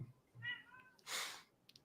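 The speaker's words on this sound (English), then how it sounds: "The cat's here." A house cat meows once with a short harmonic call, followed by a brighter, breathy burst that may be a sneeze or hiss, close by with no talking.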